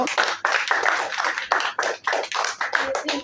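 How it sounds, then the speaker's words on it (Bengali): Schoolchildren applaud a classmate who earned a perfect score on a sixth-grade maths test, a lively burst of many hands clapping close by that runs steadily throughout. "একটা হাততালিটা তার জন্য"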